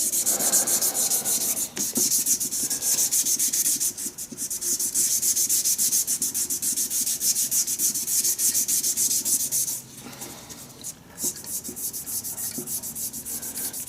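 Sandpaper rubs steadily against the wooden handle of a TF Customs shaving brush spinning on a lathe, a continuous hissing scrape with brief dips around the two-, four- and ten-second marks.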